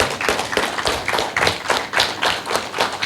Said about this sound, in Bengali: তাদের জন্য একটা করতালি আমরা দিতেই পারি